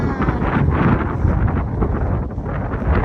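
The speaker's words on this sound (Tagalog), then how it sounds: "Mahangin." Strong wind buffeting the microphone, a steady rough roar with gusty swells and no clear voices.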